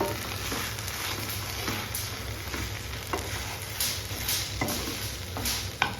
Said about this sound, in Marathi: आता ह्याच्यामध्ये मी टाकते थोडंसं खोबरं आणि परत एकदा आपण त्याला थोडंसं मिक्स करायचं.